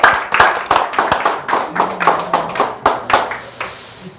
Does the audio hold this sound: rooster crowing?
no